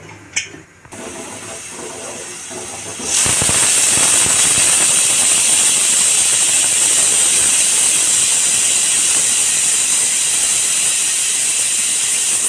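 A pressure cooker on a gas flame, cooking cauliflower-potato curry, lets out a loud, sustained steam hiss and whistle. It bursts in after a few seconds of near quiet and holds steady and close to the end.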